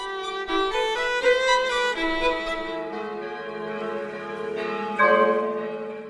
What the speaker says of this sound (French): Toutes les cloches de Manhattan se mettent à carillonner à l'unisson